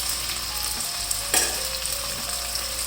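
Rice frying in desi ghee for kheer, a steady bright sizzle with a single sharper stirring scrape partway through, close and continuous with no voices.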